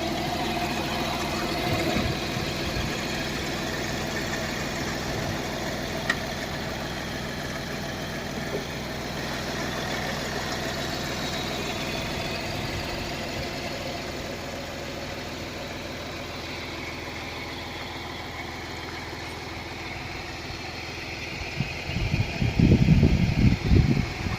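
The 1.2-litre diesel engine of a 2018 Hyundai Grand i10 Sportz idles steadily with a low, even rumble, then a burst of louder knocking or revving near the end.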